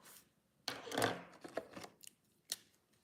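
Scissors snip through a homemade vinyl wallpaper sticker in a few close, crisp cuts with brief rustling between them.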